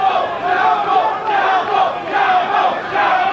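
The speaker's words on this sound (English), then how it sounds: "Crowd around the ring, very supportive of Chapo Rosario." A boxing crowd packed around the ring roars in sustained waves of cheering and shouting, loud and dense throughout.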